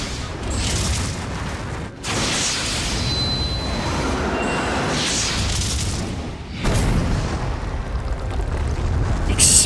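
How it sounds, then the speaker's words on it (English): Deep, rumbling booms of explosions from the video game Monster Hunter Stories 2, with a heavy, continuous roar swelling twice in bursts, loud and with no talking. "Explosions"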